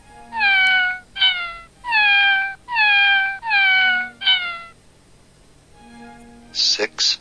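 Kittens meowing in a children's math game: six clear, evenly spaced high meows in quick succession, followed by a short pause and then a pair of brief bright chimes.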